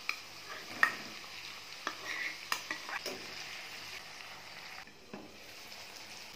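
Tomato pieces fry in a pan over onions and tempering seeds, a soft sizzle beneath repeated stirring, with spoon knocks and clinks against the metal at irregular intervals.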